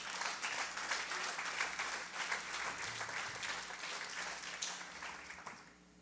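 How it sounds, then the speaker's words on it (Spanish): A church congregation applauds during a sermon on prayer, with steady, dense clapping from many people that stays fairly distant and fades slightly at the end. "Dale un aplauso al Señor."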